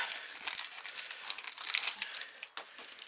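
A foil trading card pack sachet is torn open up close, with busy crinkling and crackling in quick uneven bursts and no talking over it.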